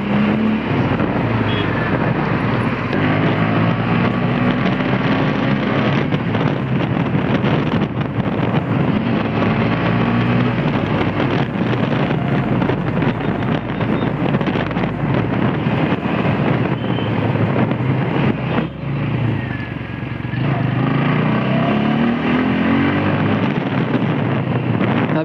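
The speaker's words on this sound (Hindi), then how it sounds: "अभी तो एकदम स्मूथ चल रही है गाड़ी, और पिकअप में भी एकदम चल रही है अच्छी" A TVS Apache 200 4V motorcycle cruising steadily with engine drone and heavy wind buffeting the microphone, continuous and loud without a break.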